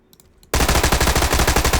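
Rapid automatic gunfire in PUBG erupts suddenly after a quiet moment, a loud, steady burst of shots repeating in fast rhythm close to the listener.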